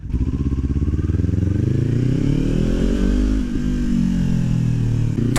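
Kawasaki Ninja 400 fitted with an Akrapovič exhaust and catalytic converter, riding with a steady, close, moderately loud engine drone that rises and falls slightly in pitch as it pulls along, with wind noise and no talking.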